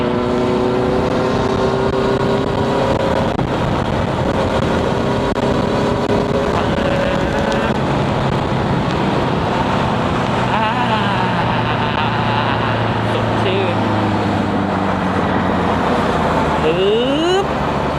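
A Honda CB650F motorcycle rides along a city road, its engine a steady loud drone with rising and falling pitch as it shifts, wind rush throughout and a voice speaking over it.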